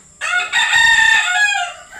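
A rooster crows once, loud and close, a long harmonic call that rises and then trails off.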